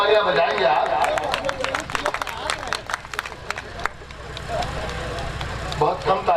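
An audience at a 2015 mushaira poetry gathering in Raniganj, Pratapgarh, claps in a scattered burst that fades in the middle, and someone speaks into a microphone over it.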